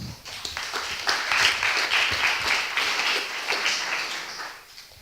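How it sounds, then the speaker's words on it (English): An audience at a pediatric innovation day event gives a brief round of applause, steady clapping from many hands that rises quickly, holds for a few seconds and then tapers off. "Round of applause."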